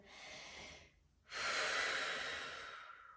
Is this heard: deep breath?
yes